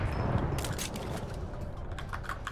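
Rapid bursts of gunfire in the video game Fortnite, a string of quick sharp cracks in uneven clusters over a busy low background, fairly quiet in the mix.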